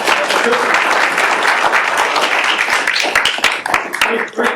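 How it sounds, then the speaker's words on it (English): Sustained applause from a conference workshop audience, dense steady clapping filling the room at high volume, with scattered sharper claps standing out as it tapers slightly near the end. "big round of applause, please"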